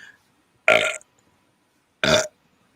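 Two loud, close burps sound out, each a short rasping belch about a second apart, with silence between them.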